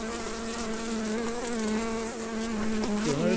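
A continuous loud drone rises from a crowded early-season honey bee colony in a back-garden hive, many overlapping wingbeats close by and swelling slightly toward the end, with no speech.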